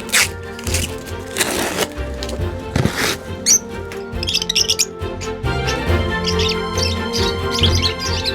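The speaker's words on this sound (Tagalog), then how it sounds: "we were envisioning to have a good aviary of these African lovebirds and other birds" African lovebirds chirping in an aviary, a busy mix of high, scratchy calls and tweets with shuffling and rustling, close and fairly loud, overlapping without pause.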